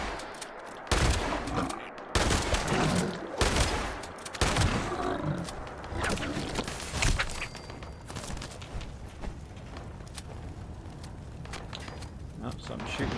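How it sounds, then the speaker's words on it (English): Gunfire rings out in Fallout 76, coming from behind the player: a few sharp, loud shots up front, then a long stretch of lighter, rapid popping mixed with footsteps and other game noise. "something shooting from behind here"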